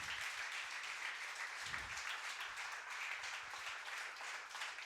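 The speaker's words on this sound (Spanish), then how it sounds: "un fuerte aplauso al Señor por esto" A church congregation applauds, heard as a faint, distant, steady patter of many hands clapping that continues evenly for about five seconds.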